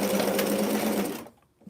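A sewing machine runs a short, steady burst stitching a T-shirt seam, close and even, then stops abruptly into near silence with a faint click.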